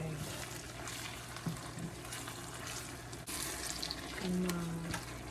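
Garlic and shallots frying slowly in oil for homemade XO sauce, a steady wet sizzle and bubbling that runs throughout, with a brief scrape of stirring near the end.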